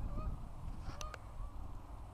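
Geese honk faintly and sporadically from a distance over a steady outdoor background, with a couple of brief louder calls near the middle.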